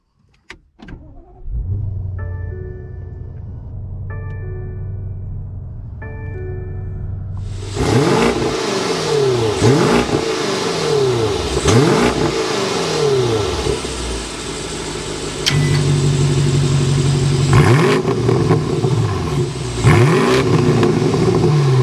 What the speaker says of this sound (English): Let's go inside and start up this twin turbo so you can hear that exhaust note.